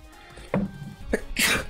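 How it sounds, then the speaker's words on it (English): A single sharp human sneeze bursts out near the mic at close range, preceded by a brief intake and faint background noise from an online card game session. "I apologize for sneezing."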